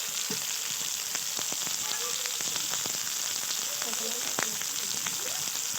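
Garlic paste and chopped tomatoes frying in a pan, a continuous crackling sizzle broken by sharp pops and light scraping stirs, steady and close, with no talk over it.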